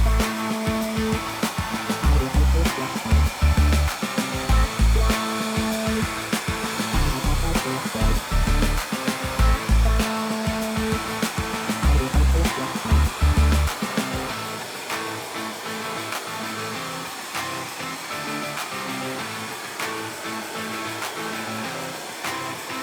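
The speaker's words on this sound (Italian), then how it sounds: "Faccio ancora la cosa di prima con il phon, però in modo un po' diverso." A hair dryer blows with a continuous loud whooshing roar, close by, with uneven thumping bumps in the first part before it settles into a steadier hum.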